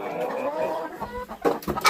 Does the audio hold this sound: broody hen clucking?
yes